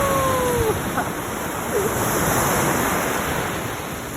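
Ocean waves break on the shore of a Chennai beach in a steady, continuous wash of surf. A few faint whistling tones drift over it early on.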